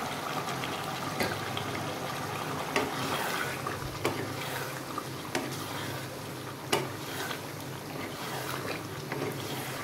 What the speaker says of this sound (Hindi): वही मैं इसमें आलू शामिल कर रही हूँ जिसमें मैंने भिंडी को फ्राई किया था